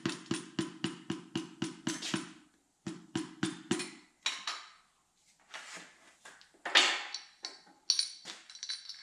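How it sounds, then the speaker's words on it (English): A rubber-handled hammer taps on engine parts during disassembly of a Datsun 280Z engine, giving quick runs of sharp, evenly spaced metallic knocks broken by brief pauses, close and clear with no talk. "This is a rubber handled hammer, so won't be damaging anything."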